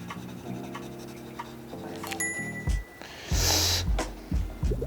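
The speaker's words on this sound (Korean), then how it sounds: "덧칠하면서 해볼게요" A pencil scratches lightly over paper while coloring in, with soft strokes that come and go, some brief breaths, and a louder rustle in the second half.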